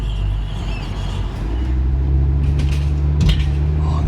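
Audi RS3 engine and exhaust, a deep rumbling idle that swells slightly louder midway, close and continuous with no talking.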